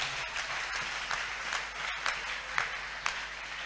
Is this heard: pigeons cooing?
no